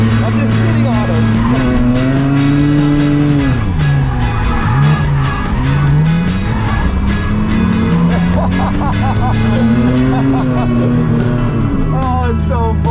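Racing game engines roar loudly and continuously, rising and falling in pitch as cars grind against each other, with tire squeals layered over the engine drone.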